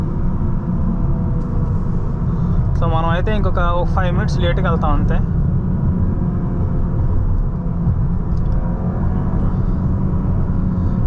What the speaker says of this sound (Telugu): సో ఇంజన్ ఫుల్ సౌండ్ మాత్రం నాకు చాలా బాగా నచ్చింది అనమాట.